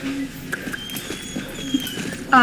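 A horse's hooves clip-clop in soft, irregular steps while riding in the Star Stable video game, faint and close, ending with a brief louder sound.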